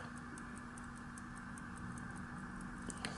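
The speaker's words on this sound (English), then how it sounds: "Oh, this thing's ticking good." A restored 16s pocket watch ticks steadily and faintly, its light, regular ticks sitting close under a constant background hum with no talk.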